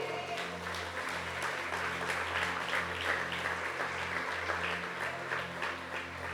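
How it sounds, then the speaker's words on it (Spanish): A church congregation claps continuously for several seconds, a dense, even wash of applause heard at a moderate distance with a low hum underneath. "¿Cuántos le dan un aplauso al Señor?"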